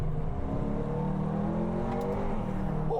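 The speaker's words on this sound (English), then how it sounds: "Just basically when he's doing accelerations, just hear the sound off this, and as he drives it, it's so nice." An Audi R8 GT with an aftermarket exhaust accelerates, giving a steady, moderately distant engine drone that holds evenly and then cuts off abruptly at the end.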